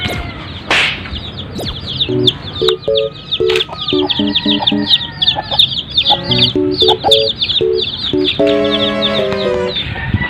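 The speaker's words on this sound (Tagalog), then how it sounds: "ito ang ating mga sisiu malalaki na rin" Chickens and chicks on a farm cluck and peep in steady, overlapping bursts, close and fairly loud, with a rooster-like call among the busy flock and no talking.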